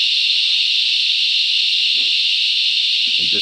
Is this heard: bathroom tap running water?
no